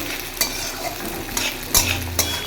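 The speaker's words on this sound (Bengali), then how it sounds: "এই যে কুচি কুচি করে রেখেছি পেঁয়াজ কাঁচা লঙ্কা এটাকে দিয়ে এবার একটুখানি ফ্রাই হবে" Chopped onion and green chilli fry in a pan at home, a soft steady sizzle with a few sharp clicks of a utensil scraping the pan.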